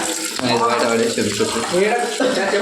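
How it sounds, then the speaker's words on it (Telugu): Water splashes down steadily in a home kitchen during a chicken feast cook-up with friends, a continuous wash of falling water heard under overlapping conversation. "ఇలా నీళ్ళు పడుతుందా?"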